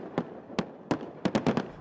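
Fireworks bursting in a series of sharp pops and cracks, a few spaced single bangs followed by a quicker cluster of four, loud and fairly close with no talk.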